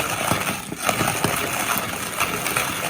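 A manual coffee grinder crunches through coffee beans in a steady, gritty churn with faint rhythmic turns of the handle, close and continuous with no talk.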